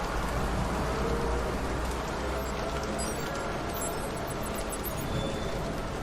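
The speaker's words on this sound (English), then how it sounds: "You need to get out of the rain." Steady rain pours on a city street at night in a neon-lit district, a dense, even hiss of drops with faint low rumble, continuous and close throughout.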